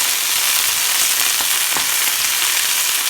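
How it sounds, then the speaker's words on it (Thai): Wild garlic flowers and stems sizzle and crackle loudly as they stir-fry in a hot oiled pan, a steady close frying hiss with faint stirring clicks. "ตอนนี้เราก็จะผัด ดอกกระเทียมป่านะคะ"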